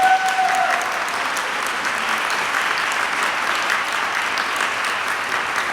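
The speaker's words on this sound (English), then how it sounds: "Let's give another round of applause to our amazing finalists." An audience at a City of Dunedin Martin Luther King Jr. celebration gives sustained, even applause, a dense wash of clapping that holds at a steady level for several seconds.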